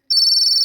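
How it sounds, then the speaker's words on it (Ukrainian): A mobile phone ringtone gives a single short, loud electronic trill, a bright steady warbling tone lasting just over half a second, alone without talk. "Так, хтось дзвонить, треба ховати телефон."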